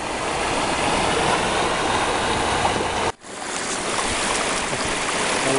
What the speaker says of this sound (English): Wind's going crazy